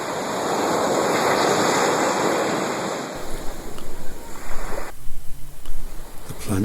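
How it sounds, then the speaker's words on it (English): Ocean waves crash onto a shoreline in a loud, steady wash of surf with wind noise, then give way to choppier, broken splashing for the rest of the moment. "Thank God for the shoreline, with waves crashing inwards"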